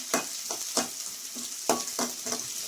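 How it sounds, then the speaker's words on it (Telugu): Sliced onions frying in a pan until brown, with a constant hiss of oil broken by repeated sharp scrapes and stirs of a spatula, close up and fairly loud. "ఇది మనం బ్రౌన్ కలర్ వచ్చేంత వరకు వేయించుకోవాలండి."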